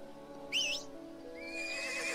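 A horse in the online game ArcheAge whinnies in a brief rising-falling burst, followed by a softer, longer neigh over a quiet game ambience.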